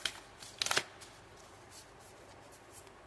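Tarot cards are shuffled by hand in a quiet room, a brief close riffle with a sharper burst of flicking partway through, then soft faint card handling.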